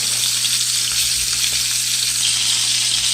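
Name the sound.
fish frying in a pan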